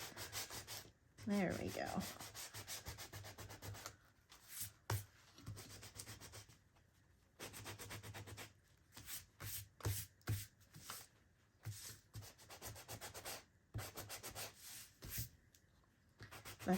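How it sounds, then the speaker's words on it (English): A sanding block rubs along the edges of a paper journal made from scraps and envelopes, distressing it in repeated scraping bursts with brief pauses, close and fairly loud; someone says a few words. "I'm going to distress this a little bit on the edges. So I'm just going to take a sanding block."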